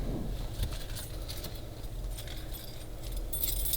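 Faint metallic jingle of a car key ring being handled near a BMW 540 wagon project, light scattered clinks over quiet low rumble.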